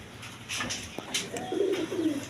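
High-flying Giribaz pigeons at a pigeon market coo in a low, rolling burst that swells toward the end, with brief rustles and bird sounds nearby.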